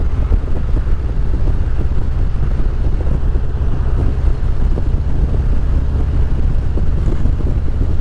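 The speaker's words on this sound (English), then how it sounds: "Got another road glide just came up behind me" A Harley-Davidson Road Glide motorcycle riding up behind on a Florida road, a low rumbling engine drone under heavy wind buffeting, loud and steady throughout.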